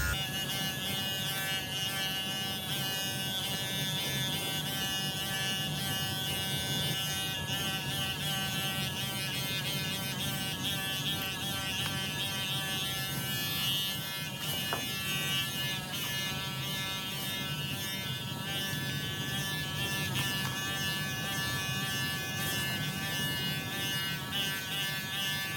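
Electric dog clippers run steadily through a groomed coat, a constant close buzzing hum with a slight whine that carries on unbroken, with no talking.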